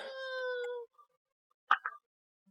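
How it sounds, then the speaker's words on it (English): A child's cry sounds near a cemetery, a drawn-out wailing tone followed by a short, fainter sobbing burst, heard alone in quiet surroundings. "I just heard a child crying again"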